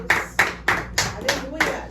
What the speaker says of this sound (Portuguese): Vamos dar ali uma salva de palmas para Jesus?